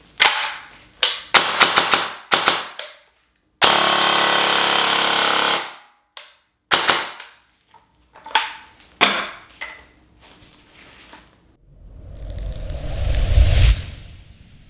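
A VFC HK MP5 A4 airsoft gun, upgraded, is dry-fired without BBs in sharp mechanical clacks and rapid full-auto bursts, loud and close, with one long continuous burst and a rumbling handling noise near the end.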